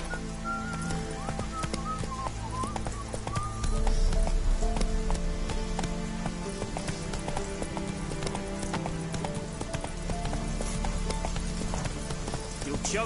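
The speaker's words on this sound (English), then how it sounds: "Whoa there, Roach." A horse in The Witcher 3 video game moves with steady hoof clip-clops under faint rain and game ambience, with a voice speaking over the sound.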